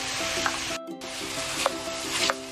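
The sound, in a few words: stirring pancit with shrimp, broccoli and cabbage in a pan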